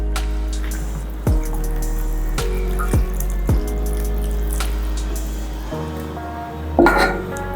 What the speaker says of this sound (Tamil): 1:2, 1:2 தண்ணி ஊற்றுவோம்.